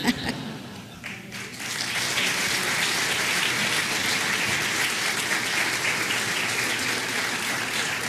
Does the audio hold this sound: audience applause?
yes